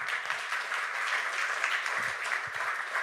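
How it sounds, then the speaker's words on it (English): Audience at an EthPrague 2026 tech talk claps after a satellite API presentation; a steady, even wash of applause fills the room for about three seconds, with a few faint low thumps underneath. "So if you could clap together"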